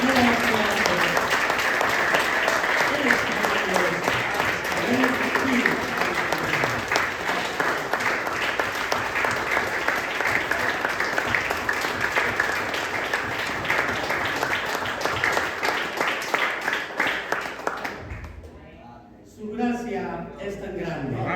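A church congregation applauds and cheers in a continuous dense wave of clapping lasting about eighteen seconds, with voices mixed in, before cutting off abruptly into quieter murmuring.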